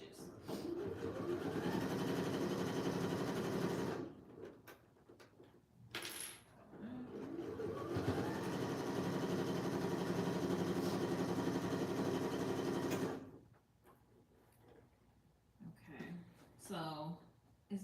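A sewing machine runs in long continuous stitching bursts while a corset dress is sewn, with a steady mechanical whir, short pauses between runs and a voice speaking in the gaps.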